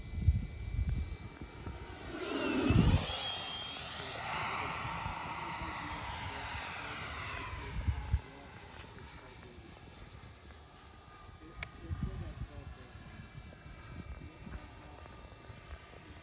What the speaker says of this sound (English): It's got a lot of sound coming out of that plane.